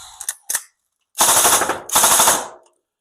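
Tokyo Marui MK46 Next Gen airsoft electric gun firing fast: a couple of short pops, then two loud sustained rapid-fire bursts of about a second each, close and clear.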